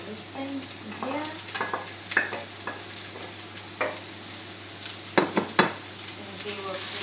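Spring roll filling is stirred in a hot pan, with a low sizzle running under repeated clattering scrapes and knocks from the utensil.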